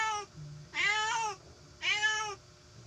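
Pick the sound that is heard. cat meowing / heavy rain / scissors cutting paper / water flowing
cat meowing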